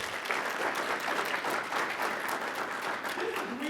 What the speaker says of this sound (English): Let's give them a round of applause just for giving time.